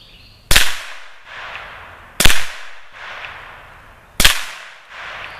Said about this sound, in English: we're about to be shooting 3 shotgun shells off the top of our barricade.